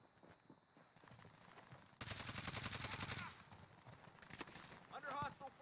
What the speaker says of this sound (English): Under hostile fire.